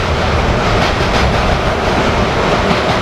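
A train roars past at close range in Boston in January, a loud continuous rumble and rattle that fills the whole clip without letting up.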